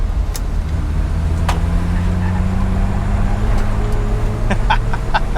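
A 1965 Ford Mustang cruises at highway speed, giving a steady low engine drone and road rumble throughout, with a few faint clicks and chirps above it and no voices.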